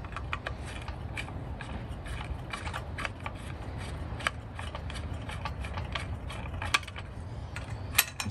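Small mechanical clicks and metallic ticking from working screws out of a vintage Milwaukee circular saw, steady close-up fiddling with scattered sharper taps over a low background rumble.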